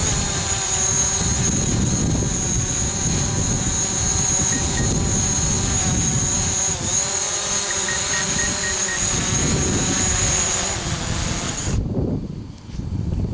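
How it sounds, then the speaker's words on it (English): A small camera drone coming in to land, its high propeller whine steady and close, then cutting off abruptly near the end, no talk. "Love the way it kind of slows down as it's landing."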